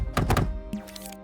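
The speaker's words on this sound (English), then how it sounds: "when it impacts with something, you know, and hurts it, it triggers the sound effect" A short game impact effect from Dreams on PS4 lands as a cluster of dull thunks in quick succession, followed by a fainter ringing tail that fades out.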